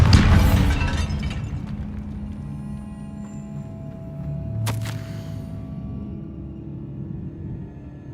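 A Bombarda explosion spell in Hogwarts Legacy opens with a loud, crunching blast that decays into a low rumble, followed by a sharp crack or burst midway and a fading resonant tail, with no talking.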